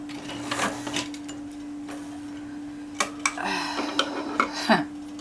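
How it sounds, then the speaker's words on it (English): A sewing machine runs a short stitch partway up a dress seam, leaving space for a pocket: a steady motor hum with light mechanical ticks and clicks, which grow busier near the end. "I'm just going to give it a little stitch, about a little stitch part of the way up."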